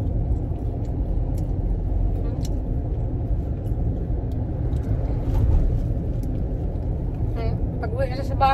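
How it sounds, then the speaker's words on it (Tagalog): Steady low rumble of cars moving in slow, congested road traffic, continuous and fairly close, with a voice talking over it at times. "Medyo traffic na naman dito banda"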